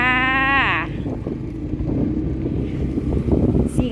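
A motorcycle ridden home, its steady engine drone rolling on close and fairly loud, with a rising whine at the start and wind buffeting the microphone throughout.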